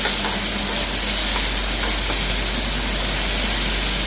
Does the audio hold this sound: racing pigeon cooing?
no